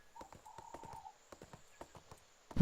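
Rhythmic hoof clip-clops from a horse trotting along in the game ArcheAge, steady and fairly close, with a brief tonal chime partway through and a louder burst at the end.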